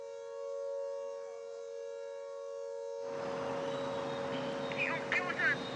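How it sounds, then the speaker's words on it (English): A steady wailing air raid siren in Chandigarh holds its tone, then broadband noise and chatter rise over it partway through. "So air siren warning sounded in Chandigarh."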